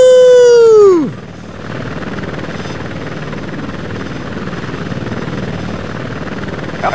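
An Apache Longbow attack helicopter in a video game spools up for takeoff, a loud tonal whine that sweeps downward in the first second, then a steady, even rotor and engine roar continues alone.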